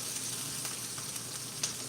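Bell peppers sautéing in a pan for pizza toppings, a soft continuous hiss of frying with faint occasional pops, steady and fairly quiet.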